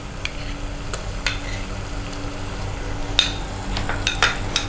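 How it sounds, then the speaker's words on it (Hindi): Steady sizzling of garlic and ginger paste in a hot pan with a few sharp stirring scrapes and clinks, continuous and fairly close, with no talking. "अब हम लहसुन और अदरक का पेस्ट डाल देंगे"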